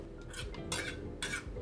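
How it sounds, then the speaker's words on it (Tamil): A spoon scrapes and clinks against a pot while mutton nalli nihari is stirred slowly, a few bright metallic strokes close by with no talking. "பொறுமையாக இந்த கறியை டிஸ்டர்ப் பண்ணாமல் பொறுமையாக கிண்டுறோம்"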